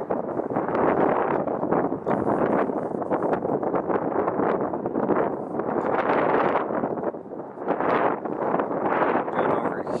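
Steady wind buffeting the microphone on the Tilikum Crossing bridge in Portland at night, a loud continuous roar that swells and dips throughout with no break.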